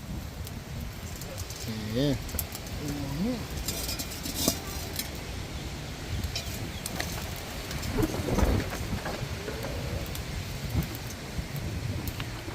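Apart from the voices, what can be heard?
rain and wind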